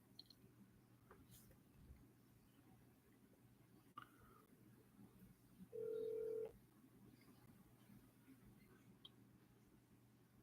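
A house telephone is dialed, with faint key clicks and a short steady tone beeping once midway through an otherwise quiet room.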